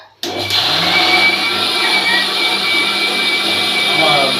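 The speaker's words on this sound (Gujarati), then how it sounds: "કેરીની કટકી નાખી છે મિક્સરમાં" A mixer grinder blends mango pieces into juice: after a brief silence, a loud, steady, high-pitched motor whir with churning starts and runs without a break.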